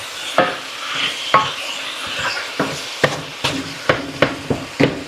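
Ground meat is stirred and turned in a hot frying pan, the spatula scraping and tapping in a string of close, uneven knocks over a low, continuous sizzle.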